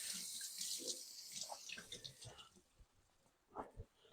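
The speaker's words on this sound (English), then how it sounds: "So I want to rinse the potatoes off." Potatoes rinsed under a running kitchen tap for a Polish dish: a steady close splashing hiss of water with a few soft knocks, and a voice talks over parts of it.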